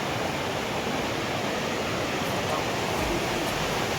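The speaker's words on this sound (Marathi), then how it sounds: "धबधब्याचा तरी आनंद घेऊया." A monsoon waterfall at Shri Malanggad pours in a dense, even roar of rushing water, constant and enveloping with no breaks.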